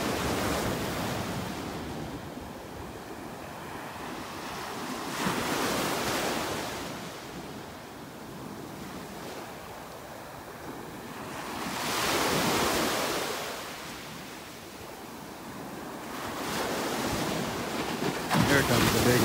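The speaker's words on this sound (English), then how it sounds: "Here comes the big wave." Gulf surf at a beach in North Naples, Florida rolls in as repeated swelling washes of breaking waves, each rising and receding over several seconds, with steady wind noise on the microphone throughout.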